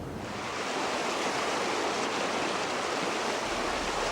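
The small river Argens in the Var flows as a steady, broad rushing of water that holds constant and fairly loud throughout, with no voices.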